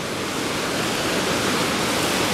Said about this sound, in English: I think we're on the banks of